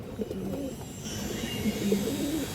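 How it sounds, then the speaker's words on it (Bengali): Pigeons coo softly and continuously at close range, several low rolling calls overlapping in a steady murmur. "এই যে কবুতর দেখেন"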